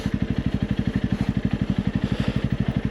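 A Honda CRF 300 Rally motorcycle creeps down a steep off-road descent under braking, its engine giving a steady, rapid low thump throughout, close and fairly loud.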